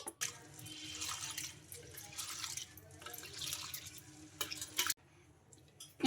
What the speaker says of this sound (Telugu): ఈ పెసరపప్పును రెండుసార్లు శుభ్రంగా వాష్ చేసుకోవాలి